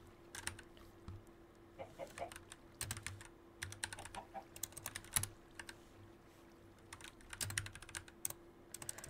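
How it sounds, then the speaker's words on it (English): Rapid clicky typing on a computer keyboard, close and quiet, in irregular bursts of keystrokes with a faint steady hum underneath. "No, my keyboard is acting out again."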